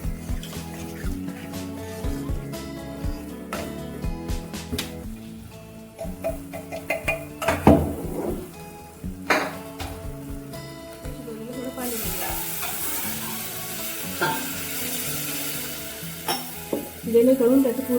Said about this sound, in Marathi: वरण आपण थोडंसं घोटून घेऊया